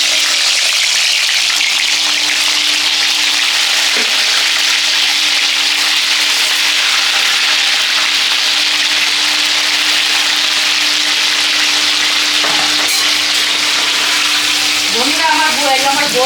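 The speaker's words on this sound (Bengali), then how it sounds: "তেল গরম হয়ে গেছে, পনিরটাকে আমি ভেজে নিব।" Paneer fries in hot oil for paneer masala, producing an even, loud, unbroken hiss that runs throughout, with a faint voice near the end.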